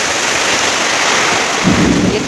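Heavy rain pours down loudly and steadily during a thunderstorm, with a low thunder rumble swelling up near the end.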